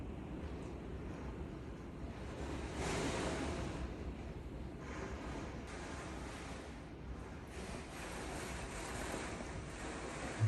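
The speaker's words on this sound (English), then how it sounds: "You guys hear the wind and the rain?" Steady roaring hurricane wind and rain in Florida with rushing, surf-like noise and gusts swelling and fading, a constant broadband wash throughout with no voices.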